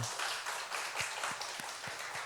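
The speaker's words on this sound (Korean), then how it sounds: "우리 박인호 권사님 박수로 격려합니다" A congregation at a Friday late-night church prayer meeting claps in encouragement, a dense steady patter of many hands applauding throughout, with no speech.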